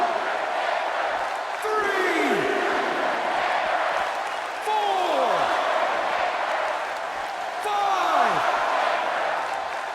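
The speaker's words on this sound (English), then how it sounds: "Another electric crowd on hand here for SmackDown, as has been the norm over the years." A video game arena crowd for a WWE 2K16 SmackDown match between Undertaker and John Cena keeps up a steady roar, with three rising and falling whoops cutting through the din.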